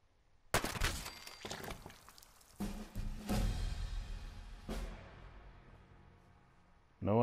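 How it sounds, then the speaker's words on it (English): Gunfire in a PS4 video game as the player shoots a duplicated copy of his own character: several loud bursts of shots with sharp onsets, spread across the moment, then fading to quieter game ambience before a final loud hit. "Wonder what happens if you shoot him."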